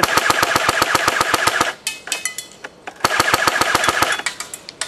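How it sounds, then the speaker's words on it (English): Rapid bursts of shots from an airsoft T3 .30 cal gun fired at a distant target, strings of sharp close reports with a short pause between two long volleys. "I'm shooting right now out at another target"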